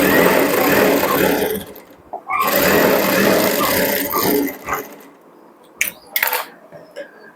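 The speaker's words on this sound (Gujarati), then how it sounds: "હવે અહીંયા મોટા ટાંકાથી સિલાઈ લગાવી દઈએ આપણે" A sewing machine runs long stitches along a hook-and-eye strip, with loud continuous whirring bursts broken by short pauses, then quieter clicks and handling sounds near the end.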